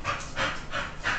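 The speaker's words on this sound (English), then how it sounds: "You're more interested in the dogs crying?" A dog panting in quick rhythmic bursts, about four rasping breaths in a row, close by.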